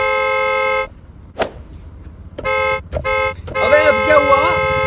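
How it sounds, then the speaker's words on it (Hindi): Car horns blare repeatedly in Indian traffic, several sustained honks with short gaps, loud and close, with a voice talking over the final stretch. "तो हॉर्न बजाएगा क्या?"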